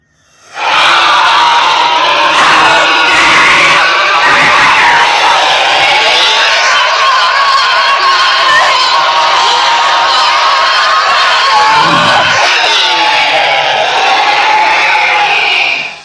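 A drawn-out, piercing alien shriek from the ending of Invasion of the Body Snatchers rings loud and continuous for about fifteen seconds, dense and harsh with a slight waver, with no talk over it.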